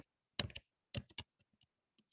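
Short bursts of typing on a computer keyboard at a terminal, a quick cluster of clicks, a pause, then another cluster and a few faint scattered taps, close and quiet with no talk.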